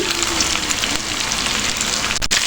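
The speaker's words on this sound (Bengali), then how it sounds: "সুন্দর করে উল্টিয়ে পাল্টিয়ে আমি বেগুনগুলোকে টমেটোগুলোকে ভেজে নিচ্ছি" Eggplant and tomato pieces frying in a pan for bhorta, a loud, dense, continuous sizzle heard up close with no voices.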